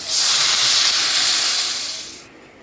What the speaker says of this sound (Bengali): ভাজা হয়ে গেছে, এখন দিয়ে দিব জল।